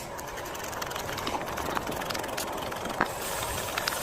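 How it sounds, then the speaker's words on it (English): Sandpaper rubs on a burred oil pump gear in a close, continuous gritty scraping hiss, with a few small knocks scattered through. "I'm gonna take that back in there and sand on it just a little bit"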